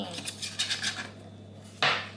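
Cooked wild garlic chives are cut with a knife on a board in a home kitchen, a quick run of light taps followed by a sharper, brighter scrape near the end, close to the microphone.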